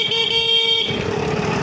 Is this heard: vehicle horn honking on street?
yes